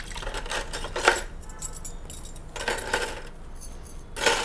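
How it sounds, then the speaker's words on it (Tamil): Panchaloha (five-metal) jewellery set down into a vessel of clean water gives close, bright metallic jangling in three loose bursts, with quieter clinks scattered between them. "இப்போ நான் நல்ல தண்ணியில் போட்டு வைக்கிறேன்"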